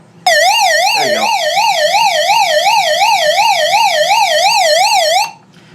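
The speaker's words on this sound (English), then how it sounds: "super loud audible alarm" A handheld emergency radio's SOS alarm wails as a loud, rapidly warbling electronic siren, sustained for about five seconds before cutting off, close and dominant over faint background.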